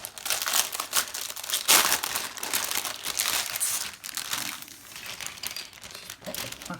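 Plastic packaging crinkling and rustling as it is pulled off and removed from a Warhammer Age of Sigmar magazine issue, close and irregular with bursts of crackle over several seconds.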